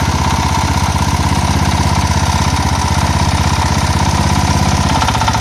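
An idling engine with no load knocks in a fast, regular rhythm, loud and close, the repeated metallic tapping riding over the running motor without any speech.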